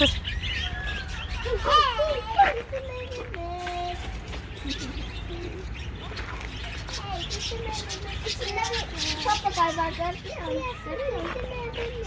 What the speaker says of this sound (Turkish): Bir sürü papağan var.